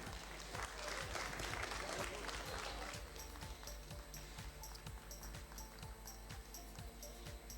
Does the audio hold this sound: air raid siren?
no